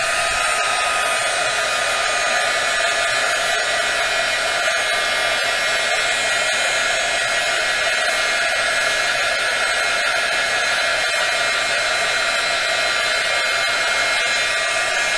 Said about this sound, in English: go ahead and blow the heat gun over it for a bit, and that will get them heat set for you